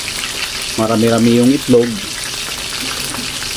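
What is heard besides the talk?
coated chicken frying in oil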